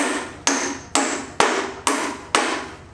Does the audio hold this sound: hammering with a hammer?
yes